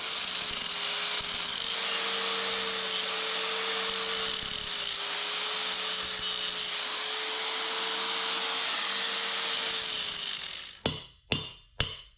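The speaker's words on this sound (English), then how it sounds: "I'm gonna grind those off so I can just punch it through" An angle grinder runs continuously while grinding off weld on the metal frame of a large custom ATV trailer, a loud steady whine near the mic, then stops with a few sharp clanks of metal.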